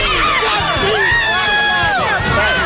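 A dense crowd cheers and shouts at a political campaign rally, loud and continuous, with overlapping whoops and excited voices filling the space.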